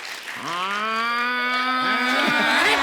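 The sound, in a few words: person imitating a buffalo's moo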